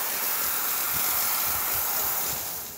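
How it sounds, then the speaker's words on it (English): The steam wand of a Rancilio Silvia espresso machine hisses in a steady, loud, broad rush of steam that holds constant for nearly three seconds before easing slightly at the end. "Here's the steamer."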